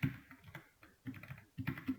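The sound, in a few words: typing on a computer keyboard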